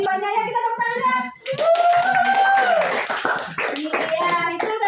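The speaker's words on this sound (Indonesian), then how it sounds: "Ya, kita tepuk tangan ya." A classroom of children claps hands together in a lively burst, while voices and singing-like speech are heard over and around the clapping.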